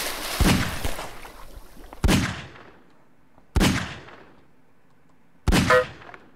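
Gunshots in a video game, four sharp bursts spaced a second or two apart with decaying tails, loud and close, no talking.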